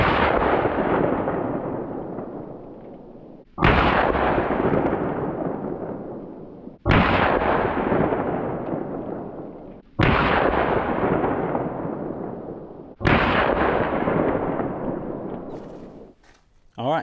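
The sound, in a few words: CCI Uppercut .22lr gunshots fired into test block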